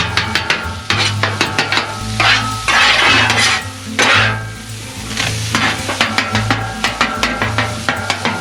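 Chorizo frying on a Blackstone 28-inch Adventure Ready griddle, a loud close sizzle with bursts of spattering fat and repeated scrapes and taps of a spatula on the steel, no talking.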